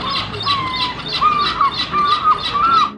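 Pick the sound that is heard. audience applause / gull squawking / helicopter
gull squawking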